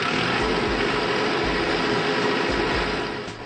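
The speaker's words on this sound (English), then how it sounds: "When the engine is running," A running engine with wired trip protection for low lube oil pressure and high water temperature produces a steady low throbbing hum with a regular pulsing beat, continuous and fairly close, with no talk over it.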